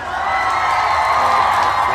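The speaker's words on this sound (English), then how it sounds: "Applause is still in the house" A live audience bursts into loud, dense applause and cheering, with whoops mixed into a steady wash of crowd noise that carries on without a break.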